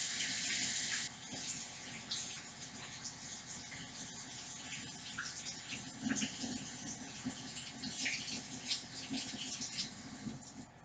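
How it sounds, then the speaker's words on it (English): Water runs steadily from a tap while hands are washed, a continuous faint splashing hiss with small fluctuations throughout and no talk. "wash my hands."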